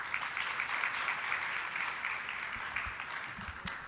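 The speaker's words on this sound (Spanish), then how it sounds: "Vamos a darle un fuerte aplauso" At a Pan-American medical congress on Crohn's disease and ulcerative colitis, a conference hall audience gives a speaker sustained applause, even and somewhat distant, with a few closer claps standing out near the end.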